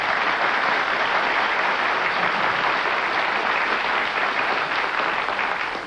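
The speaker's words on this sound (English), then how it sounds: "Despite the crazy applause from this audience" Loud, dense applause from a 1972 television studio audience, continuous and even throughout, tapering slightly at the very end.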